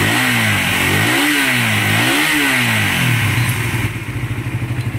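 A motorcycle engine revs in repeated rising and falling swells, loud and close, then drops to a rapid clattering idle; the bike had been knocking and ticking before a tune-up.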